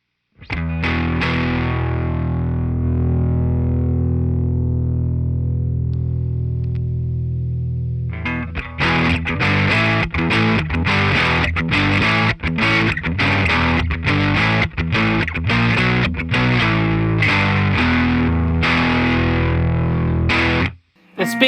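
Distorted electric guitar through a Jensen speaker, opening with a long sustained chord that decays, then tight, heavy palm-muted metal riffing with sharp, rhythmic chugs, loud and close, stopping abruptly.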